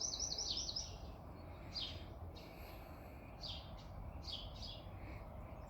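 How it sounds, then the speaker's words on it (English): Starlings chirp and chatter in a garden in several short bursts, fairly faint and close together, over a steady low background hum with no one talking. "in particular with the starlings, they just come and get it now"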